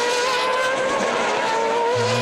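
A race car engine howls steadily at high revs on the Portimao circuit in Portugal during a single-seater race, loud and continuous, with a lower engine note joining near the end.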